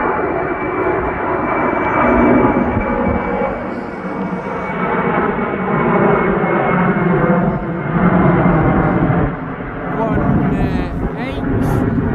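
A DHL cargo aircraft climbing steeply on takeoff bound for Leipzig produces a loud, continuous engine roar close by, swelling and easing slightly as it goes, with some wind buffeting on the microphone.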